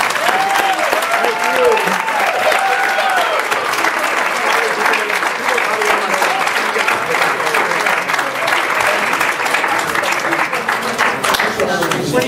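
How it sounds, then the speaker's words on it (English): An audience in a theatre at a legislative education conference applauds loudly and steadily for a presenter, with dense clapping sustained throughout and a few voices calling out over it. "final round of applause for our outstanding"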